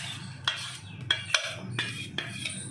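Ground rice being mixed into a dal batter for uttapa, a utensil scraping and clinking against the bowl in several separate strokes, fairly quiet with no voices.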